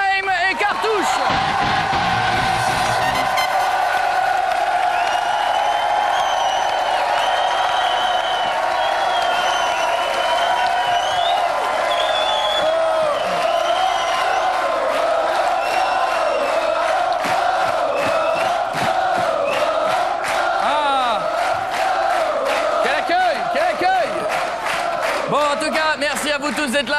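A French TV studio audience applauds and cheers for arriving guests, with a long run of crowd noise, whoops and clapping holding steady throughout while music and voices sound over it.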